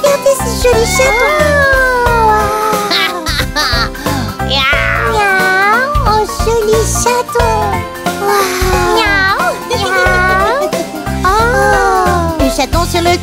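In a French children's nursery song about a kitten riding a tractor, a voice sings and imitates a kitten's meow again and again in a steady rhythm over bright, continuous music.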